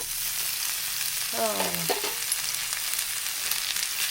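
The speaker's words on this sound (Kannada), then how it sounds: "ಪನ್ನೀರನ್ನ ಚೆನ್ನಾಗಿ ಸ್ವಲ್ಪ ಬೆಣ್ಣೆಯಲ್ಲಿ ರೋಸ್ಟ್ ಮಾಡ್ಕೋಬೇಕು." Paneer sizzles and fries in butter in a pan, a steady soft crackle under a brief stir, with no talking.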